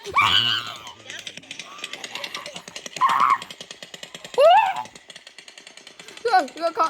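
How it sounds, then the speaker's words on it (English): Rapid bursts of gunfire from a mass shooting at an outdoor concert in Las Vegas rattle in fast repeating pops, loud and close, while people shout and scream over them. "That's a gunshot."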